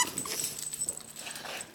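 A dog whimpers and whines in soft, high, wavering tones, continuous and close but fairly quiet, with no talking.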